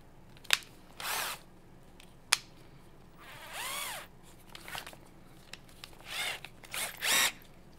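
An electric drill with a 2.5 mm bit whirs in several short bursts drilling holes in wood, spinning up and down close by, with sharp clicks and handling knocks between runs.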